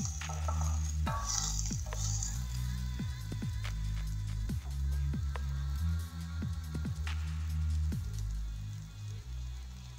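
Oil poured into a pot of Nigerian vegetable jollof rice still cooking, giving a steady close sizzle and bubbling with soft stirring knocks throughout, without talk.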